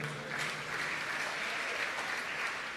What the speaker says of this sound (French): Acclamez pour eux.